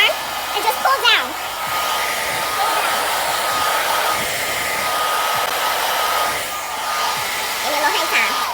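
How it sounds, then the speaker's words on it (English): Hair dryer running on a medium warm setting during home hair styling, a steady close airflow roar lasting the whole stretch with brief handling bumps at the start. "I'm going to turn my dryer on. Not hot air, medium warm."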